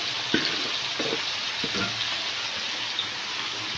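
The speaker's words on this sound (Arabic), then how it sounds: "نحطها في البصلة كده تاخدلها تشويحة" Green beans and onions sizzle steadily in a hot pan, with a few soft stirring scrapes near the start.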